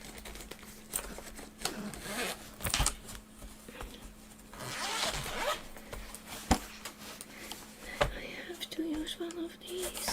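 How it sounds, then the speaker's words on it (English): A pencil case zipper is tugged again and again in short, rasping bursts close by and fairly quiet, with soft speech now and then. "I cannot open this pencil case."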